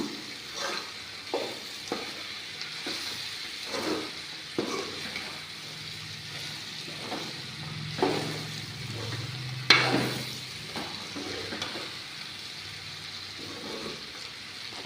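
Food being stirred in a hot pan in a home kitchen, soft repeated scraping strokes at a loose rhythm over a faint background sizzle, with one brief watery gurgle partway through; quiet and close.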